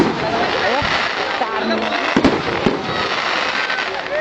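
Fireworks bursting at a Melbourne fireworks show, a dense continuous crackle and boom close by, with people talking and exclaiming throughout.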